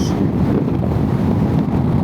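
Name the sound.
strong wind blowing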